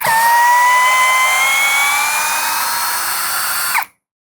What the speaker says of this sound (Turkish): Hemen birinci viteste söküyoruz.